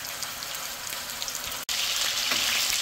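Chicken pieces browning in a frying pan for a chicken stew give off a steady, close sizzle, with one abrupt momentary dropout partway through before the frying hiss resumes.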